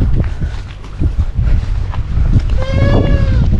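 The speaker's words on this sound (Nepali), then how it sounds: "यो त बोयर बाख्राको जस्तो छ" A Boer goat bleats once on a farm in eastern Nepal, a short wavering call near the end, heard over outdoor background noise and wind.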